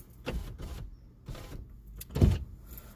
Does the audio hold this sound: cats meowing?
no